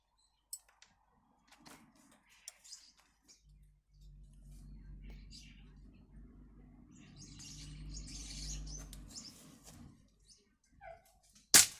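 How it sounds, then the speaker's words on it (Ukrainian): Starlings feeding on grapes give scattered, faint chirps and tweets against a quiet background, with a low mechanical hum swelling through the middle. "Ці шпаки просто задовбали, вони тупо жруть е, виноград і плюють мені прям"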